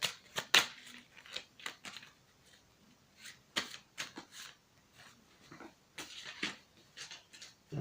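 Playing cards shuffled by hand for a hoodoo card reading, a series of crisp riffling bursts and soft slaps at uneven intervals, close up, with quiet pauses between.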